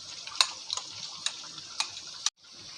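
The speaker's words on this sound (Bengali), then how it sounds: "মশলার পেস্ট সব দিয়ে দিলাম দিয়ে আমি ভালো করে পাঁচ মিনিট ধরে আমি কষিয়ে নিই" Spice paste sautéing in oil for yogurt chicken, a steady high sizzle broken by several sharp ticks of a spoon against the pan.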